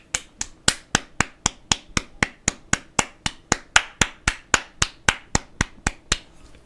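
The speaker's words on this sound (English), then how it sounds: "Just clap it up, bro." Hands clap about twenty times in a steady, evenly spaced rhythm, each clap sharp, crisp and close, with no voices between them.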